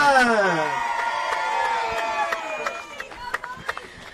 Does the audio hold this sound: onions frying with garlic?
no